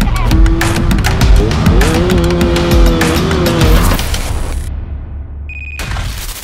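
A Yamaha F1ZR 120cc motorcycle fitted with a KBRS racing exhaust revs hard and close, its engine note rising and falling in loud bursts before cutting out abruptly near the end.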